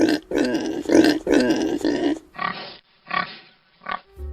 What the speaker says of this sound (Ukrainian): Свині мають свій характерний звук, і кажуть вони ось так.